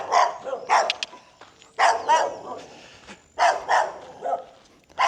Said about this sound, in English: Let them bark a little bit.